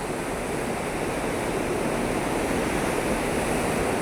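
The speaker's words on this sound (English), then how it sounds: "look at that, the water flow." Water rushes steadily at the Blue Eye in Theth, Albania, a constant close hiss and roar like a small waterfall or fast stream, with no voices.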